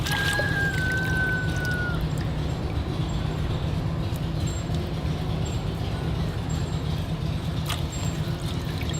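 Rosemary roots are plunged and swished in a container of water, making a steady wet churning and sloshing that runs throughout at close range, with a faint thin tone near the start.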